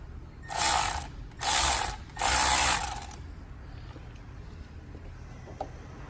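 Three loud bursts of ratcheting click close up as a bolt is tightened on a 1994 Ford Explorer during a water pump job, each burst about a second long, with quiet between and after.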